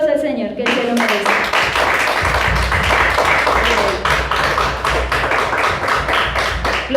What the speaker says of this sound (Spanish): Denle un aplauso al Señor, que Él se lo merece.